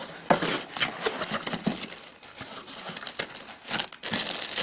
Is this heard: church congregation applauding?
no